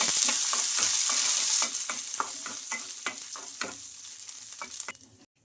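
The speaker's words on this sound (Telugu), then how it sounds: "ఇంకా వీటిని కొంచెం కలర్ వచ్చే వరకు ఫ్రై చేసుకోవాలి కొంచెం కలర్ చేంజ్ అయిన తర్వాత ఎండుమిర్చి కూడా వేసుకోవాలి" Peanuts and green gram fry with dried red chillies in a pan, a close, steady sizzle broken by repeated scraping stirs that thin out toward the end.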